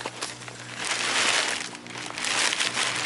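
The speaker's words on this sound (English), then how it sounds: "I'll just take more of my generic aquatic soil and fill that pot." Gritty, crunchy rustling of aquatic soil being scooped and poured into a pot, continuous and close by, with no voices.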